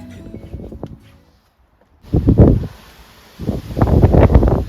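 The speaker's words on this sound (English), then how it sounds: "So the wind's getting up now this afternoon" Wind gusting outdoors in a garden on an afternoon, with bursts of rumbling buffeting and rustle that come and go after a short quiet gap.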